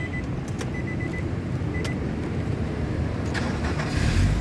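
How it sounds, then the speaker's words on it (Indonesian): A 2005 Nissan X-Trail T30 2.5 automatic is being started: a steady low engine rumble with scattered light clicks, swelling louder toward the end. "Sekarang kita coba nyalakan mobil ya."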